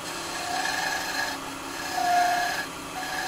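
A skew chisel slicing wood on a spinning lathe, a close, continuous rasping hiss with slight swells as the cut is taken, no voices.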